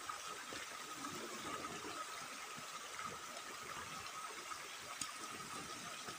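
Water rushes steadily through a large pipe running up toward a river and waterfall in Northern Samar, a continuous broadband gush at moderate, even loudness with no voices over it.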